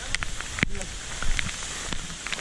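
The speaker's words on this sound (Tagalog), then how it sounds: "Grabing lakas ng ulan" Heavy rain hisses steadily in the Katunggan mangrove forest, a dense wash of drops broken by a few sharp splats and knocks nearby.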